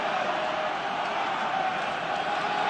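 Sustained roar of a rugby stadium crowd urging Ireland on in a second-half match against New Zealand, a continuous massed din of voices holding level throughout, distant and unbroken.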